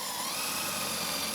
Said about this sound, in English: That's ready to drill right there.